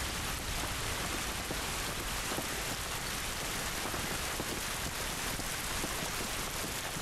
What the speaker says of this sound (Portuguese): Essa chuva não vai nos ajudar.